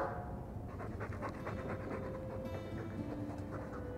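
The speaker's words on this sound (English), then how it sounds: "I'm sick of what's-his-name staring and panting." A Mabari war dog in the video game Dragon Age 2 pants steadily in quick, quiet rhythmic breaths over a low ambient game background.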